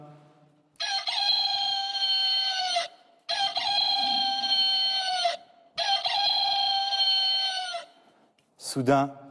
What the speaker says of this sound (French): Un coq chante pour nous réveiller, comme ils le font l'été, quand on dort la fenêtre ouverte.